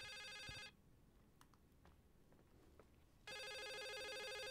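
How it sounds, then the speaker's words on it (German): A telephone rings in the horror video game The Suicide of Rachel Foster, two loud electronic rings separated by a quiet gap, heard alone. "Das Telefon klingelt."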